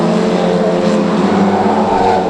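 Pro Stock race cars roar around the Cowdenbeath Racewall oval, a loud, close, continuous engine drone with shifting pitch as the cars pass in a pack.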